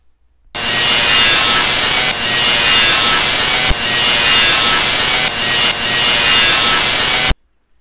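Power saw cutting an angle in metal stock for workshop storage box racking, a loud harsh continuous cut in four long bursts separated by brief dips, stopping abruptly at the end.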